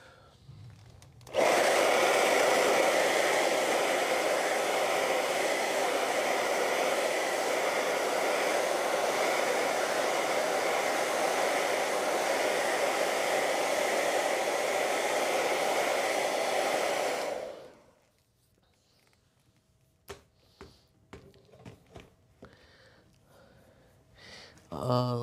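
A hair dryer blows steadily on wet acrylic paint, starting abruptly, running loud and continuous for about sixteen seconds, then cutting off, leaving faint clicks and handling noises in a quiet room.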